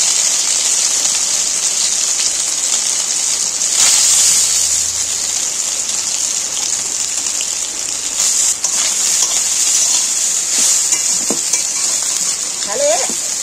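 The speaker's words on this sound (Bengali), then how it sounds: "ভাজা তেলটা কমিয়ে নিয়ে সেই তেলের মধ্যে এবার আমি সয়াবিনগুলো, সেদ্ধ যে সয়াবিনগুলো, সেই সয়াবিনগুলো আমি একটু ভেজে নেব" Boiled soybeans fry in hot oil in a home kitchen. A steady, loud hissing sizzle like rain carries throughout, with occasional scrapes and clinks of a spatula stirring the pan.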